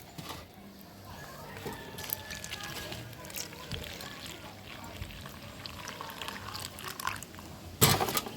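Liquid mixed with cold water pours steadily into a pot of rice and peas cooking outdoors, a soft continuous trickle and gurgle beneath faint background noise, ending with a brief louder splash.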